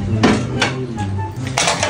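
Clattering of pots and pans being handled and scrubbed, with intermittent clanks and splashes close by, under a faint voice.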